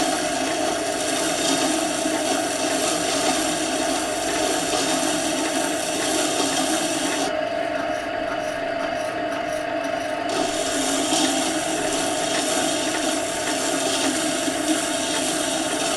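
A Scheppach Tiger 2000S wet grinder sharpens a chisel, its stone grinding the steel edge in a steady, continuous rasp with a brief shift in tone midway, close and fairly loud with no talking.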